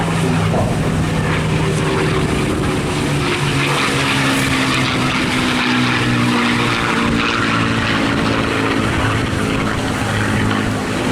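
A 1944-built Spitfire Mk IX high-altitude fighter flies at the Eastbourne Airshow with a loud, steady propeller and piston-engine drone that holds throughout, rich and rumbling, with no clear talking over it.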